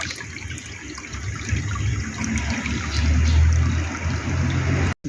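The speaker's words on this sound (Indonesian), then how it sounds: "Ini kayak buang dulu airnya, ya, sedikit demi sedikit kita cuci." Water is poured out of a container while new silica sand is washed before going into a water filter tank, a continuous close rushing and splashing that swells slightly and stops abruptly at the end.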